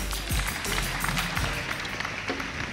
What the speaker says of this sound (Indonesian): Tepuk tangan sekali lagi untuk Mas Menteri Sandiaga Salahuddin Uno.